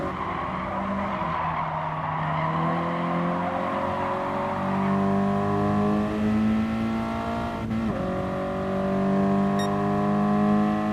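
Race cars in Gran Turismo Sport howl loud and near through a lap-one pack, engines climbing through gears with layered rising tones and steady tire squeal, no voices over the racing.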